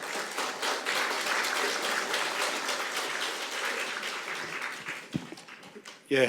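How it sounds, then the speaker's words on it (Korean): Audience applause fills a hall at a National Assembly climate crisis policy forum as the head of the budget office walks to the podium, a steady, dense patter of many hands that thins near the end before a brief voice. "박수와 함께 단상으로 모시겠습니다"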